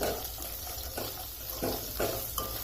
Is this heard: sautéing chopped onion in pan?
yes